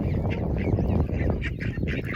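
Canada geese and ducks call and quack close by while being fed wild bird food, a busy overlapping chorus of honks and squawks with no talk.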